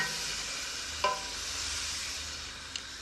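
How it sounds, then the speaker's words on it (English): Tinned tomatoes being stirred gently into a frying base of ginger, garlic, onions and four spices for chickpea masala, a steady soft sizzle with a couple of brief clinks from the spoon. "In they go. And stir gently."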